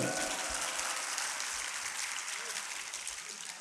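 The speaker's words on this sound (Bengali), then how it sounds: "প্রত্যেকের জন্য একটা করতালি আশা করছি আমি" Audience at a motivational speaking event in Narayanganj claps for the volunteers: a dense, steady wash of applause filling the whole stretch, slowly tapering at the end.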